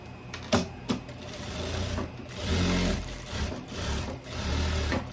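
A sewing machine stitches a pocket seam on tailoring fabric in short uneven runs, its motor whirring and needle clattering nearby, with a few sharp knocks between bursts.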